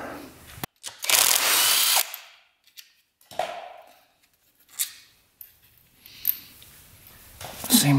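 A ratchet works loose the carburetor manifold tubes on a 1975 Honda 1000cc motorcycle left untouched for over 25 years. Short clicking ratchet bursts and metallic clunks come up close, separated by quiet pauses.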